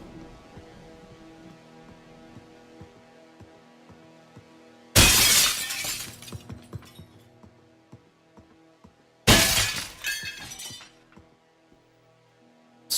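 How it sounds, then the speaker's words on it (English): Glass shatters in a Source engine video game, two loud sudden crashes of breaking glass with tinkling debris, each bursting out over a quiet background hum and then trailing off into scattered clinks. "Source engine glass noise."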